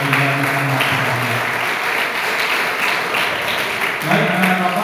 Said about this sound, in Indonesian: tepuk tangan dulu pada Nizia Muhammad